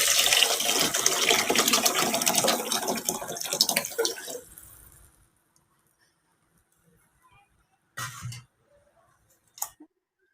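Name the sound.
tamarind, coconut and tomato water being poured into the fish curry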